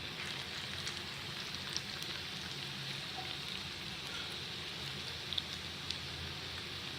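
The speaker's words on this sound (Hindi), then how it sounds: "आप इस तरह से ये फ्राई करें। पहले एक साइड से देखें अच्छी तरह से हो जाए 1-2 मिनट, फिर दूसरी साइड इसकी फ्राई करें" Spicy potato cutlets frying in a pan over medium heat, giving a steady, soft sizzle and crackle with occasional pops, heard alone and fairly quiet.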